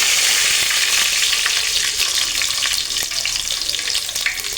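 Loud, close sizzling of curry leaves frying in hot oil for tempering, a bright crackling hiss with scattered pops, fading slightly toward the end.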